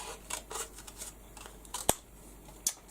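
Scissors snipping through paper while cutting out a piece for a journal page, a series of small crisp cuts and light clicks, close and quiet, with no talking.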